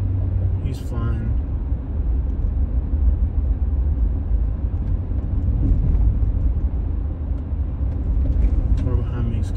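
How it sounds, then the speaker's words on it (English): A car approaches fast from behind on a city road at night in Jacksonville, and its steady rumble of engine and road noise builds under the driver's own car hum, with talking over the top. "This car behind me is coming at a pretty good speed."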